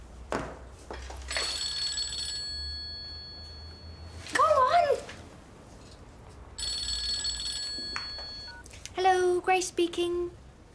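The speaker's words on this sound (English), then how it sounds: "Oh, it's ringing." A telephone rings in two long bursts of electronic bell tone with pauses between, heard close and moderately loud, while a voice speaks in between.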